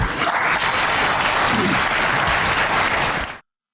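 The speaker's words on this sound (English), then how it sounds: "So the audience is applauding, and they're giving me permission to keep going." A debate audience at a Republican presidential debate bursts into loud, sustained applause that fills the room for about three seconds, then cuts off abruptly.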